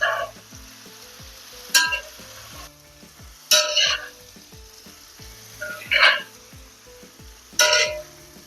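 Potatoes, mushrooms and softened carrots sizzle in a frying pan while a utensil stirs them, giving four scraping, clattering bursts at regular intervals over a constant low hiss.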